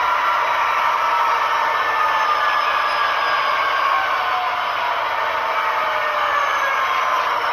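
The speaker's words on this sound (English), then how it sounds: "You can hear the engine kicking back down now." Athearn Genesis SD70 Norfolk Southern model locomotive on a Tsunami 2 sound decoder, its engine sound spooling back down: a continuous whining hum that slowly falls in pitch, steady and close with no talk.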